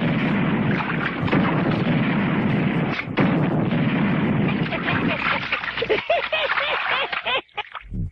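Bomb explosions thrown into a river, a loud continuous roaring rumble of blasts and debris that breaks up and fades toward the end, with voices faintly under it.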